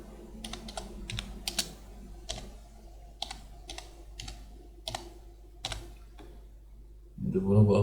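Computer keyboard typing during ship hull structure coursework drafting, sharp separate key taps at an irregular pace over steady background hum, ending in a louder rumbling noise.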